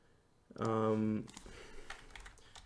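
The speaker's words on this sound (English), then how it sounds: "can just type in virus scan" Typing on a computer keyboard, a brief run of close, quick clicking keystrokes following a short voiced sound.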